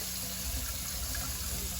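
Hot water runs steadily from a kitchen tap into a sink for washing dishes, a soft continuous gush heard close and fairly quiet without a break.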